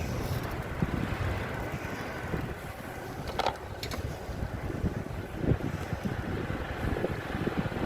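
Steady wind roars and buffets the microphone without letup, a constant rumbling rush with occasional faint knocks underneath.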